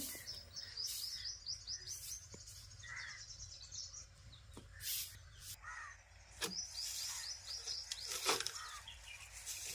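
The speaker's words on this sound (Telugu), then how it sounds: "పిచ్చుకల సౌండ్ బాగుంటుంది" Sparrows chirp in lively bursts nearby, with wings flapping and occasional cawing in the background; no one speaks.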